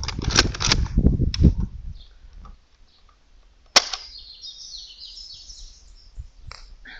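A sharp, sudden pop of a Nerf Vortex Praxis dart blaster firing, preceded by rustling handling noise and followed by faint background chirps.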